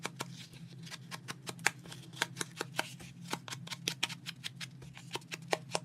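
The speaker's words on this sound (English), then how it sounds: "I'm going to take this and I'm going to ink the edges of my card" An ink pad dabbed rapidly along the edges of an artist trading card, many quick light taps and brushy scuffs in a close, busy rhythm over a low steady hum.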